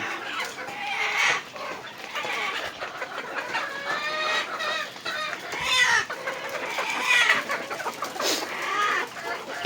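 Several hens cluck and squawk over one another nearby, a busy chattering flock with rising calls scattered throughout.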